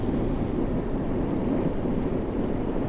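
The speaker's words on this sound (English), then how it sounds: "Very windy, and obviously because I've got the windows open." Steady, heavy wind roar buffets the microphone, a constant low rush with no breaks, from air blasting through open windows on a moving MAN 18.310 Caetano bus in the game OMSI 2.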